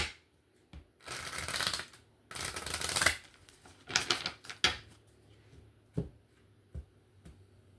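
Tarot cards are shuffled up close in several bursts of riffling and flicking, separated by short pauses and a few soft taps.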